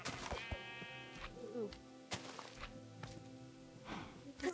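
Sheep bleating in the video game Minecraft, a few wavering bleats amid in-game thunks and knocks, with people talking over the game sounds.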